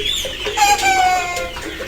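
Chickens on a poultry farm in Pakistan, close by, clucking and cackling in overlapping bursts with no talk.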